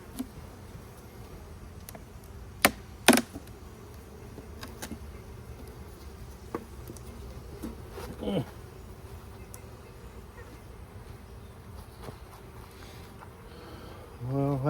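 Honeybees drone softly around hive frames during an apiary inspection, a faint continuous buzz with occasional sharp clicks and knocks from handling the frames nearby.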